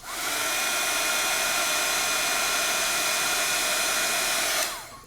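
A craft heat tool blows hot air to melt embossing powder on a stencilled layering project. It makes a loud, steady whooshing roar for about five seconds, then cuts off abruptly.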